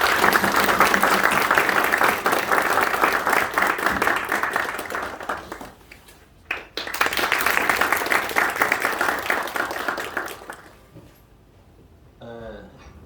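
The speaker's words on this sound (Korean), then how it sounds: "큰 박수로 환영해 주시길 바랍니다." An audience at a retirement farewell lecture applauds to welcome Professor Yoon Chang-yeol: sustained loud clapping that dips briefly mid-way, swells again, then fades out, followed by a short faint tail.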